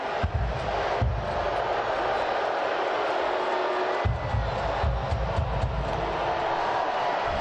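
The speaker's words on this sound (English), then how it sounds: "The crowd in the corner there is getting pretty heated" A soccer crowd packed into a stadium corner roars in a dense, steady wash of noise late in the match, with a commentator's voice faintly over it.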